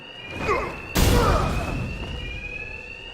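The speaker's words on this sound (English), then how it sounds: "these thugs can't hear a thing over the alarms" Fire alarm in a Spider-Man video game ringing a steady electronic tone through a crash and low boom, the alarm carrying on alone afterward at moderate loudness.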